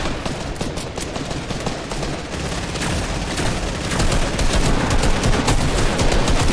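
Dense shotgun gunfire in a video game, a continuous barrage of loud overlapping blasts and booms with no pause, growing slightly louder toward the end.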